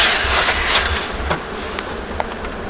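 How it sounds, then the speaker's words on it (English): A dense mass of honeybees hums steadily at an open hive while bees are being added, a close, continuous buzz with faint knocks of handling over it. "in that big mass of bees right there"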